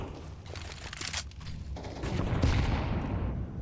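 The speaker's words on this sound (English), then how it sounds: "M4A4 does hit a little bit different when you're able to get the spray off" M4A4 rifle spraying in a Counter-Strike esports match, ESL Challenger League: a dense, sustained burst of rapid automatic gunfire with rumbling game ambience and other weapon sounds layered underneath.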